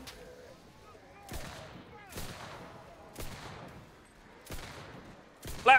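Gunfire booms in the shooter Enlisted zombie survival mode, about five sharp reports spaced roughly a second apart, each trailing off in echo, with the last one loudest at the end.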